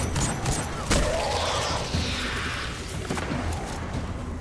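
A grenade launcher in the Destiny 2 game fires amid booming blasts and combat noise, with one sharp crack standing out early among dense, rumbling explosions.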